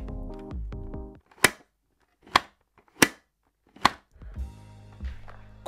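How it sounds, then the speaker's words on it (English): The sun visor lever on a Nobleman TK02 full-face helmet is pulled, giving four crisp, separate clicks close to the microphone, with a voice heard briefly before and after them. "you've got this like lever thing on the bottom left of the helmet. And if you sort of pull it in, just listen to how satisfying that sounds"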